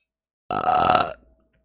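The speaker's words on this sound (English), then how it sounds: "An unnecessary burp." A single loud, close burp lasting about half a second, heard alone against silence.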